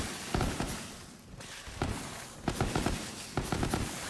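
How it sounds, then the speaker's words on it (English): Bursts of fireworks-like explosions in the video game Borderlands 3, several crackling pops at irregular intervals over a steady noisy background, moderately loud with no speech. "Just sounds like fireworks."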